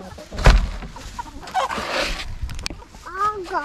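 Chickens being moved in a stock trailer cluck and squawk in short bursts, with a loud bump and rustling around them and a brief voice in the background.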